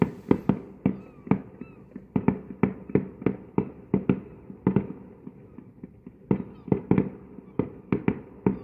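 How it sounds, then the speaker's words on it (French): A 14th of July fireworks display bursts in a rapid series of sharp, fairly loud bangs, about two per second with short pauses, booming from a moderate distance. "It's very low, the fireworks."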